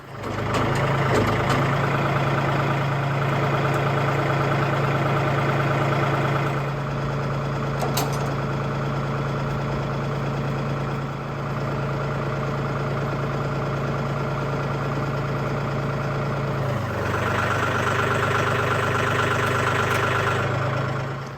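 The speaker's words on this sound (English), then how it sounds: "I'm going to go ahead and turn the tractor on, raise it up, and set the adjustment." A tractor carrying a Maschio Gaspardo Fiore sickle mower idles nearby with a steady low diesel drone, shifting slightly in tone partway through and then settling again, running alone without talk.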